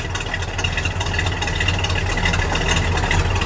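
A 1968 Plymouth GTX convertible's 440 V8 idles steadily up close, a continuous low rumbling throb with no revving over the short stretch.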